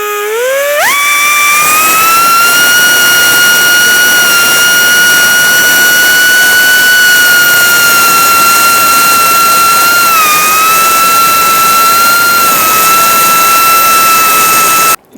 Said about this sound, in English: We're going to cut the sleeve off now.